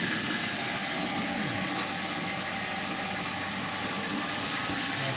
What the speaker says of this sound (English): It sounds like it's a combustion engine, like the exhaust. Yeah, it's like backfiring.